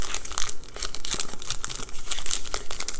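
Close-up crinkling and tearing of a plastic 2019 Topps Pro Debut baseball card pack wrapper, a few sharp rips among rustling crackles, with no talking.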